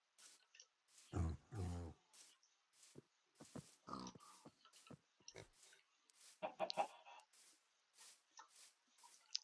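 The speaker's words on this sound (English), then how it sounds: "Get a little weirded out by these pigs." Pigs in a video game give short, quiet grunts and oinks in a string of brief bursts spread across a near-silent background, with no talk.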